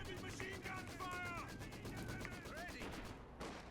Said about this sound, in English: MG suppressing the unit.